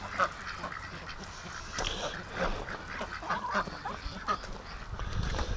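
Ducks quacking and honking in a backyard pen with chickens nearby, a busy overlapping flock of calls at close range, steady and fairly loud throughout.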